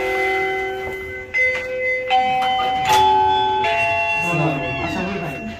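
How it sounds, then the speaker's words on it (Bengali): A doorbell at a home entrance chimes several tones in sequence, clear and fairly close, with people talking over and after it. "কলিং বেল দেন ভাই।"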